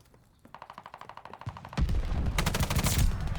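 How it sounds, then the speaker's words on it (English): Gunfire in the Call of Duty Vanguard video game, a rapid string of sharp shots building into louder, denser bursts of firing, close and without talk. "3-round burst"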